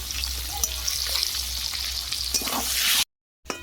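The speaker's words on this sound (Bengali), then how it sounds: "পাঁপড় ভাজা তেলে আলু ভেজে নেব।" Potatoes, cut large and seasoned with a little turmeric and salt, fry in oil left over from frying papad, giving a steady close sizzle with a few stirring clatters before a brief silent gap near the end.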